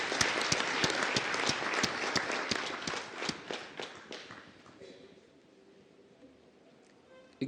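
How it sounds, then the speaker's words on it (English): A graduation audience at a faculty of health sciences ceremony breaks into loud, dense applause that thins into scattered claps over several seconds and then fades to a quiet room. "Let's give them a rousing round of applause."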